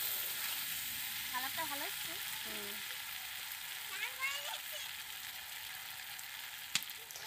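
Fried potatoes sizzle steadily in a pan over a clay stove, a constant hiss with faint scraping of stirring, and someone speaks briefly over it.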